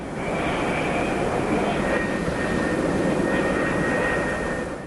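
Jet aircraft on an aircraft carrier deck, F-4E Phantom era, roaring as a loud, steady, continuous engine noise with a faint high whine running throughout.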